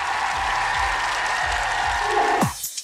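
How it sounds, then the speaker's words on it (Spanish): Studio audience applause for a guest researcher on a science TV show, a sustained wash of clapping that cuts off suddenly near the end, followed by a brief voice. "Te damos un gran aplauso también por estar acá en nuestro estudio"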